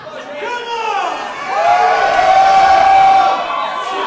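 A wrestling crowd at an IHW Saturday Night Mayhem event, with a band on hand, cheers steadily for wrestler Shano, a dense wash of voices that swells louder midway and holds, with a sustained tone running through it.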